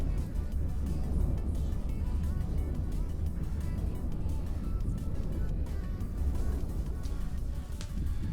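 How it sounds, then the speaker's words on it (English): Steady low droning hum of a moon drill's tractor beam in EVE Online, a continuous rumbling mechanical texture that holds evenly throughout. "but it's the tractor beam on the moon drill"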